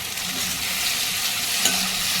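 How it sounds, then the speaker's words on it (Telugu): Tomatoes tipped into softened onions frying in a pan for a cabbage masala gravy, a steady close sizzle with faint stirring scrapes and no talking. "తర్వాత టమాటాలు వేస్తున్నాను"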